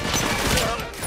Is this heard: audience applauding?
no